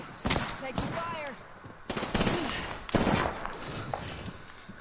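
Gunfire from the video game Apex Legends, several short bursts of shots spread across a few seconds, mixed with in-game voice lines and other game effects.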